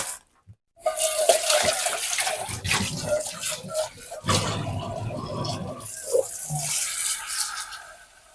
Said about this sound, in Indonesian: Ini air keran ya.